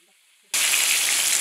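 Pieces of shark fish for Trinidad bake and shark hit hot oil after a brief quiet moment, setting off a loud, steady, broadband sizzle of frying that carries on without a break.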